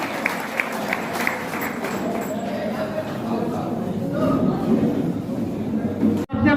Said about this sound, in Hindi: जोरदार तालियां भाई, लखनऊ वाले क्या